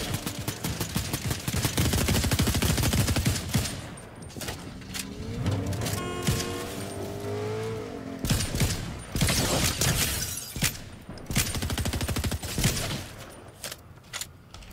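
Gunfire from a farmer character in Fortnite Battle Royale, loud rapid bursts of shots and shattering impacts in a fusillade, a short lull with mechanical clatter in the middle, then more bursts.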